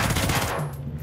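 Automatic weapon fire in the tactical shooter Ghost Recon Breakpoint, a loud dense burst of rapid shots that fills the first half and then thins into a sustained low rumble.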